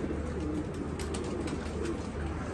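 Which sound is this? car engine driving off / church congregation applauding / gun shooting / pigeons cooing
pigeons cooing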